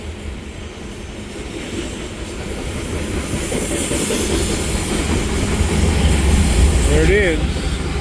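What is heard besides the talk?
BNSF coal train locomotive passing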